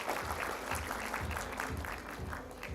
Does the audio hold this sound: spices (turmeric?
no